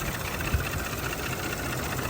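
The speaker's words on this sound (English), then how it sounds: "Now the engine is making some noise." The engine of a 2019 Audi A6 S-line idles in its engine bay, a steady low hum with a faint vibration, close and continuous with no talk.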